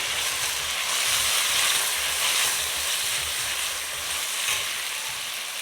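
Garlic sizzles and hisses steadily in a hot pan as it is stirred, a dense, continuous frying crackle that stays loud and close throughout, with no talking.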